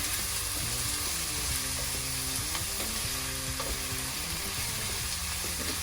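Onions frying in a pan for chicken korma, a steady dense sizzle that runs continuously at close range, with faint clinks from the pan underneath.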